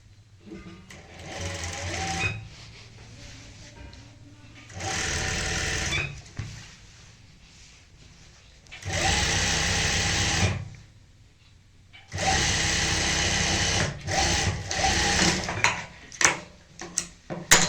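Sewing machine stitching a skirt palazzo seam with a narrow margin, running in several loud bursts of steady whirring separated by quieter pauses with handling noises.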